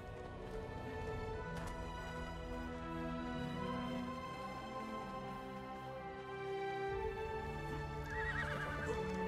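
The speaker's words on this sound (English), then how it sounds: "So I might take that horse to the left there." A horse in the video game ARK whinnies and neighs over steady clip-clop hoofbeats, set against a droning ambient game soundtrack.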